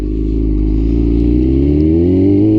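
A 1999 Yamaha R6 motorcycle engine with a very loud exhaust, running close up with a deep steady drone whose pitch climbs slightly as the revs rise, alone without talk.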